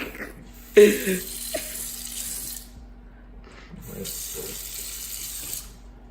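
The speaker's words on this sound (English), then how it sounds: "Review the water dispenser. You mean the sink? The sink." Kitchen sink tap runs water in two bursts, a strong splashing stream for about two seconds, a brief pause, then a steadier flow near the end, close and moderately loud with no talking.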